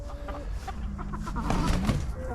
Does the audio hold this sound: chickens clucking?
yes